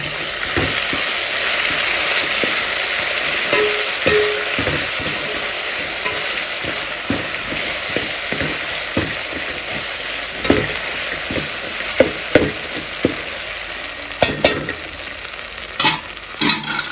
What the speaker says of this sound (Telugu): అల్లం వెల్లుల్లి పేస్ట్ బాగా వేగల్లా వేగనిద్దాం